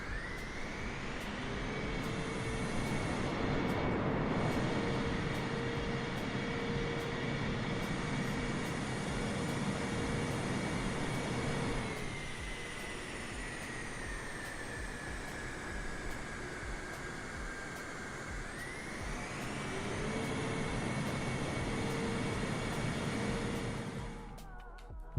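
Airliner thrust reversers roar after touchdown in Microsoft Flight Simulator: a steady, loud rushing jet drone with a tonal whine that drops, eases off midway, then swells again before cutting out.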